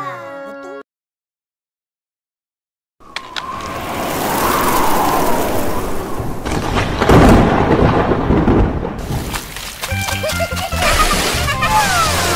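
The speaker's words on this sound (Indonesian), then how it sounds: "bahaya berteduh bawah pokok waktu hujan macam ni" Thunder rumbles with a crashing roar over steady rain in the video game Sakura School Simulator, loud and sustained after a brief stretch of game music and a pause of silence.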